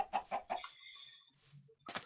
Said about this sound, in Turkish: Ah tavuk tavuk tavuk çikin çikin çikin çikin çikin.